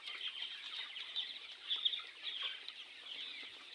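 Chickens on a raised slatted poultry farm built over a fish pond cluck and chatter in a steady, busy chorus of overlapping calls, moderately close, with no voices.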